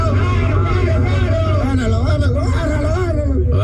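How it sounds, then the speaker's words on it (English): A street brawl in East Williamsburg, Brooklyn, heard as a dense mix of agitated shouting voices and crowd hubbub over steady traffic rumble. "That's the sound of a brawl going down in the East Williamsburg section of Brooklyn."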